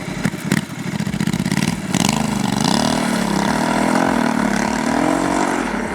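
Honda Africa Twin 1100 twin-cylinder motorcycle engine pulls steadily through the midrange, a loud continuous drone with a few throttle blips at the start, then rising and settling pitch as it accelerates, with no talking.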